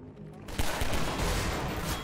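Gunfire and explosions in the video game Half-Life 2: Overcharged, a dense, loud burst of rapid shots and blasts that erupts after a quieter half-second and continues steadily to the end.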